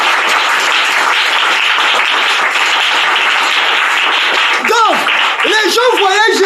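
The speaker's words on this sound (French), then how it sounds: "Acclamez d'abord pour le Seigneur." A church congregation claps and applauds for the Lord, a loud, dense, continuous wash of hands that holds steady throughout, with a voice rising over it near the end.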